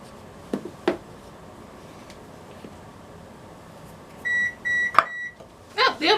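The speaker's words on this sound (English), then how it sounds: "Oh, the oven is finished preheating." An oven sounds three evenly spaced electronic beeps to signal it has finished preheating while sand donuts are made. The beeps are clear against a quiet kitchen, with a few scattered knocks and clatters before and after.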